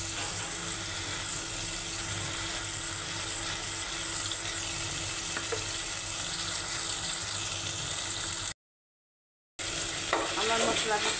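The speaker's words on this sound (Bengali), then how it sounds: "আমার মশলা কষানো হয়ে গেছে" Spices fry in oil in a pan while being stirred for a meat curry, making a continuous close sizzle with occasional scraping, cut by a brief gap of silence near the end.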